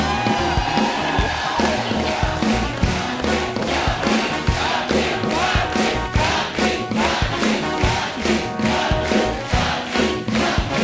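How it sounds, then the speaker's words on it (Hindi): Studio audience at a live comedy talk show clapping and cheering loudly and steadily throughout, a dense wash of applause with whoops over music. "आप तालियां बजाई जा रहे हो"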